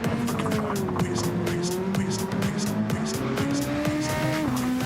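A race car in a racing video game during a qualifying lap on a forest circuit, its engine droning steadily and shifting gears while the tires squeal repeatedly through the corners, all loud and continuous.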